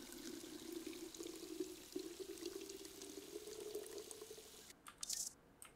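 Water pouring steadily into bottles in the video game Drug Dealer Simulator, a soft continuous trickle that runs for several seconds before a brief splashy burst near the end.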